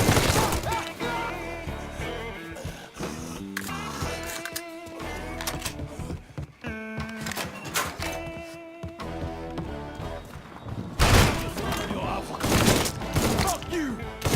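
Gunfire from the Mafia 3 video game, with sharp cracks and impacts mixed with shattering and thuds, set against loud, busy game sound and music over a chaotic firefight.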